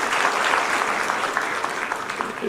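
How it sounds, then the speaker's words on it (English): Sustained audience applause at an investment conference in Murang'a, honouring a key guest from Equity Bank; steady dense clapping throughout, fairly loud and even, with no speech over it. "We need to clap for our key guest, Dr. James Mwangi"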